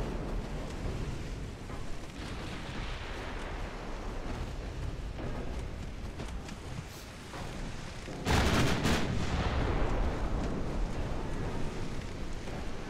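Naval guns fire in Ultimate Admiral Dreadnoughts as warships engage the cruiser Sendai: a sharp, loud broadside blast cracks out midway over a steady rumbling battle background, with its roar trailing off afterward.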